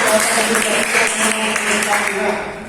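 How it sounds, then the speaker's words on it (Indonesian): Classmates applaud during a micro-teaching class session, a steady wash of clapping from a small group that fills the whole stretch, with some voices mixed in. "Tepuk tangan teman-teman."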